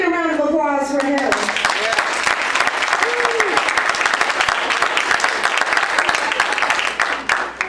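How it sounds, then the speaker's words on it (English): An audience at the 2015 I Have A Dream event bursts into loud, sustained applause and cheering after a brief spoken introduction, the clapping steady and close for several seconds. "So can I get a round of applause for him?"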